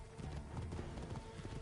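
Horses gallop in the One Piece Odyssey video game, set in the desert land of Arabasta, with rapid rhythmic clip-clop hoofbeats at close range and a faint whinny in the mix.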